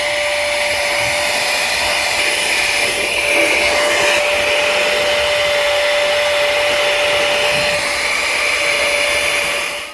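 A Baseus handheld vacuum cleaner runs continuously at close range, a steady high-pitched motor whine and airflow rush with a constant tonal hum, loud and alone without speech.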